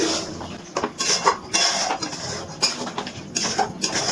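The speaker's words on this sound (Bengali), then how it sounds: "এবারে যে পেঁয়াজ আর টমেটোটা ভেজে রেখেছিলাম সেটা এর মধ্যে দিয়ে দিচ্ছি ভালো করে মিশিয়ে নিচ্ছি" Spoon scrapes and clanks against a pan as fried onion and tomato are mixed into chicken for a dopeyaza, a run of irregular metallic knocks and scrapes close by with no talking.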